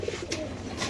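A pigeon coos softly at a pigeon farm, a brief low murmuring call with faint rustling around it, no voices.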